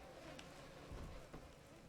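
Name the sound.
swarm of bees attacking in video game Bioshock 2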